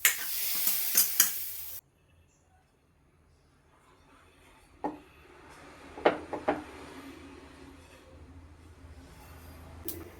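Spinach, mustard seeds and shallots frying in coconut oil in a pan: a loud burst of sizzling at first, then a quieter steady frying hiss broken by a few sharp clinks and stirring knocks.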